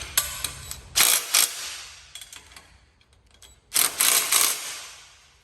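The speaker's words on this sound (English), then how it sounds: "And then tighten it down with your socket and your open end wrench." A socket wrench ratchets a bolt tight on a Feighner ramp hinge, with quick clicking bursts of pawl clatter separated by pauses and softer metallic handling, close and loud.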